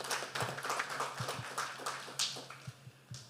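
Scattered clapping from a small group, uneven and moderately close, thinning out toward the end.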